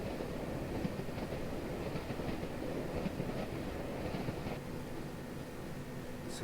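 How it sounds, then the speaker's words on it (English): A long goods train rolls past in Farming Simulator 17, a steady, fairly quiet rumble with rhythmic clickety-clack from the wheels lasting several seconds, heard alone. "And there goes the goods train the other way."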